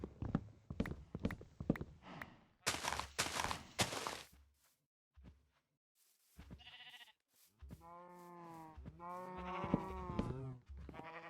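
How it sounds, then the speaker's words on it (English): Red sheep in a blocky sandbox game bleat several times in wavering cries, alongside bursts of clip-clopping footsteps and brief pauses. "We also have our local red sheep here, obviously naturally spawned."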